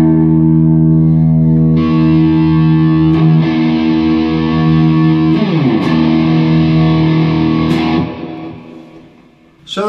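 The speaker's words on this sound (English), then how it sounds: "So I'm going to hit the note and then turn on the distortion." A sustained distorted electric guitar note rings with buzzing harmonics and wavering texture, fading out before a final pick attack.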